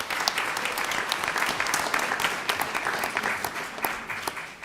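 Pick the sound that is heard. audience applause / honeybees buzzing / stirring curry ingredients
audience applause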